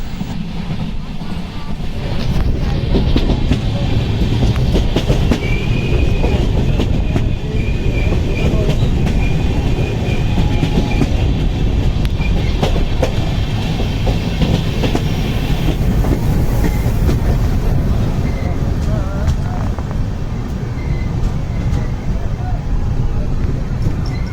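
Diva–Sawantwadi passenger train rolling steadily along the rails in rainy, misty hill country, a loud continuous rumble with clattering wheel noise and faint squeals throughout, close and sustained for the whole stretch.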